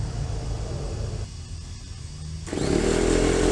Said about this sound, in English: And there's the air compressor.